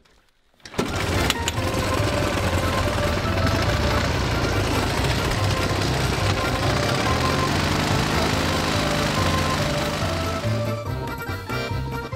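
A motorcycle engine starts and runs for several seconds with a dense, steady, buzzing roar, loud and close, before easing off slightly at the end; no talk is heard.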